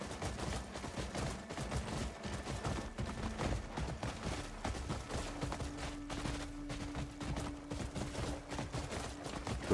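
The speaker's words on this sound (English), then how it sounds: "So it's basically a spear that can shoot." A spear-shooting weapon fires repeatedly in Crimson Desert: dense rapid volleys of sharp shots run continuously beneath a constant combat din, with no speech.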